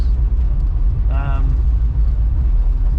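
Old 1968 Chrysler VE Valiant rumbling along on a drive around town, a steady loud low engine and road drone with a brief tonal whine partway through, under a poorly insulated cabin's noise.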